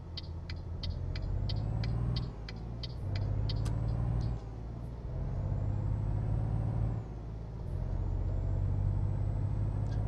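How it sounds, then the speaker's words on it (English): A heavy truck in Euro Truck Simulator 2 rumbles steadily with a low engine drone, broken by a few pauses and air-brake-like hisses, accompanied by sharp repeated clicking or ticking in the early part; no talking. "Hey Blitz, you can't start moving the truck in 11th gear"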